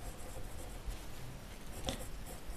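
Chalk or marker writing on a board during a Class 9 maths lesson, a faint continuous scratchy rub running steadily for a few seconds, quiet and close with no talk.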